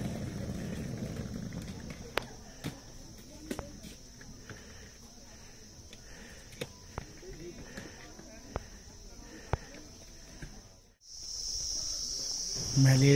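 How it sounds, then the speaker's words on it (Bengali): Crickets chirp in a continuous high trill along a mountain road near Darjeeling in November, with sharp footstep-like clicks in a regular rhythm, a brief dropout, and then the trill returns louder. "মেলের রাস্তায় এই একা হেঁটে চলা আর এই ঝিঝি পোকার ডাক"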